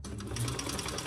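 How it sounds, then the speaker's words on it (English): A sewing machine basting a fabric bag flap with right sides together, a fast steady close-up motor whir and needle chatter in one short continuous burst, no voices. "I'm just basting my flap right sides together."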